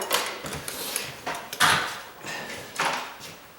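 A standard hinged door being moved and closed, several loud close knocks and sliding rattles spread over a few seconds with no talk.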